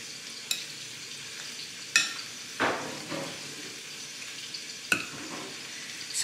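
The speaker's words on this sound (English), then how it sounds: "we're just going to mash. So you just mash like so." Potatoes are mashed by hand in a pot for a Salisbury steak dinner, giving a few scattered soft squishing strokes and light clicks of the masher against the pot, moderately close, with no talking.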